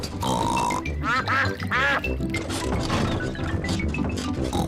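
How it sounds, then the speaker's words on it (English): Ducks in a Peppa Pig cartoon quack in several short bursts beside a bumpy country road, the calls mixed with cartoon music and effects at close range. "Hello, ducks."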